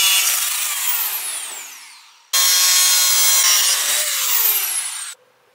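Handsaw cutting through a wooden bulkhead piece for a model tugboat, two long loud sawing strokes with a short pause between, ending abruptly.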